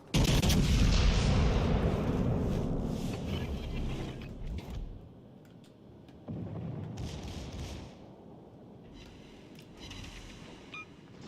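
Battleship main-gun salvo in World of Warships Legends, fired from an Amagi: heavy booming blasts with a long rumbling tail, then a second quieter boom a few seconds later.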